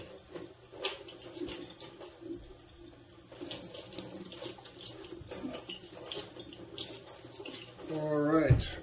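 Running tap water splashes into a kitchen sink while a container is rinsed, an uneven close spatter with hand movements, rising into a louder gush near the end, and a faint voice briefly underneath.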